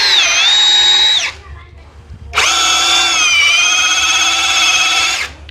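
A cordless 10mm impact drill whines loudly in two bursts while drilling a 13 mm hole at speed 1 with a dull bit, a short run then a longer sustained one with a brief pause between, steady high-pitched motor tone.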